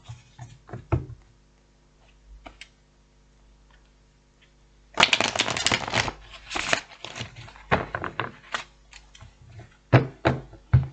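Tarot cards are shuffled by hand in a quiet room: sparse soft taps and ticks at first, then dense crackling bursts of riffled cards, followed by scattered sharp flicks and snaps.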